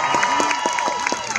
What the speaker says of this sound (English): Lots of applause.